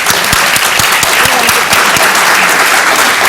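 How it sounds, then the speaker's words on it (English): Audience at a panel event on women preventing violent extremism breaks into steady, loud applause, a dense wash of clapping that fills the whole stretch without pause. "So I hope you'll share with me in giving these women a round of grand applause."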